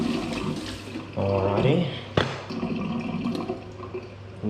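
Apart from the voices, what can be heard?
washing hands under running water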